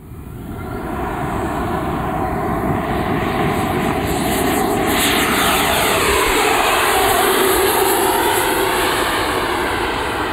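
Freewing Avanti RC model jet with an 80mm WeMoTec electric ducted fan on 6S power, roughly 1 kW, taking off and flying. A loud, continuous rushing whine builds in the first second, then holds steady and close throughout.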